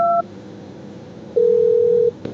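Mobile phone dialing tones: a short two-note beep, a brief pause, then a steady tone held for under a second, all loud and close with nothing else around them.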